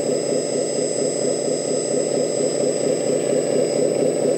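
The hydraulic pump of a 1/14 scale Benz LESU 8x8 RC crane dumper truck runs with a steady, loud electric whine and hum, unbroken throughout.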